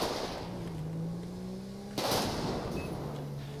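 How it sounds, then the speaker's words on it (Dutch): Gunfire at a jewelry store robbery in GTA 5, with a low car engine droning before a sudden loud shot bursts out mid-way and a rough noisy tail follows, no voices. "Wordt flink geschoten."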